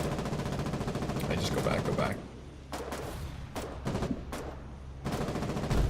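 Machine gun fire in the WW2-style game Foxhole, sustained rattling bursts that cut out and resume in several short volleys, with someone speaking briefly over the shooting.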